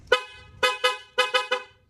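Horn on a Yamaha Tracer 9 GT motorcycle being tested: six sharp, loud honks in quick bursts, one single then a pair and a rapid triple, close up with no talking.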